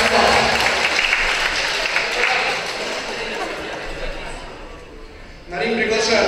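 An audience at the Garant Cup 2019 boxing tournament applauds a 3-0 decision, the clapping loud at first, then thinning and fading, before a fresh burst rises near the end; a ring announcer's voice is heard through it.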